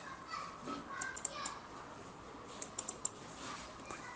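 Mouse clicks and keyboard typing at a computer running Siemens TIA Portal PLC software, made up of a few quick double clicks and light key taps against a quiet background with no talking.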